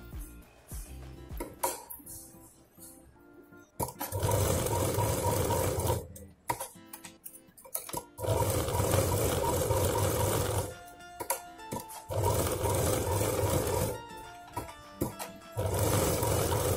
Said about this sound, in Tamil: நம்மளோட ஒரு உள் பாக்கெட் தைச்சு முடிச்சிட்டோம்.